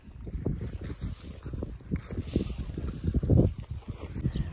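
Gusty wind on farmland in Japan buffets the microphone in a continuous low, blustery rumble that swells and dips, with no other clear sounds.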